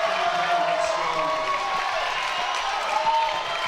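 Volleyball match crowd standing and cheering, a steady dense roar of voices with scattered clapping and whoops, sustained and moderately loud throughout.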